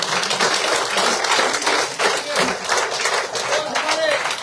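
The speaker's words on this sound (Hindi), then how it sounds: "जोरदार तालियों से" Audience applause welcoming new members into the BJP at a party event at its Jammu headquarters, a steady dense wash of clapping throughout with voices mixed in underneath.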